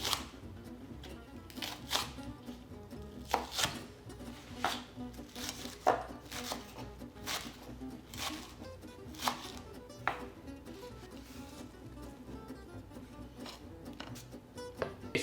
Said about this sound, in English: This is one bunch of green onions, and again, a coarse chop.